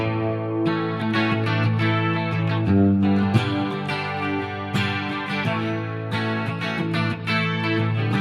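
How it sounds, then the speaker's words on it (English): Electric guitar run through a Line 6 Helix dual-amp stereo preset plays heavily distorted sustained chords with rhythmic strums, loud and close with no voices. "Of course, I hit the distortion there."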